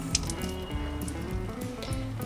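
Water splashes and trickles steadily through a funnel into a water globe, a close, continuous liquid pouring sound with small gurgles and drips throughout.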